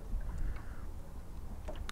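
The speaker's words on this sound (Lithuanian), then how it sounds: "Gerai, duodu gazo, plaukiu tenais link autostrados tilto." A small boat motors across open water toward a highway bridge, giving off a low, steady engine rumble close by, with faint splashes and wind over it and no talking.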